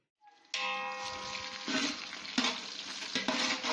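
Onions sizzle and brown in a pot over a low gas flame, starting abruptly with a bright tone, then settling into a continuous frying hiss with occasional stirring knocks.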